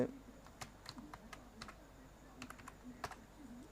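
Sparse, light keystrokes on a computer keyboard, faint and close, in short irregular bursts, with a voice murmuring quietly underneath.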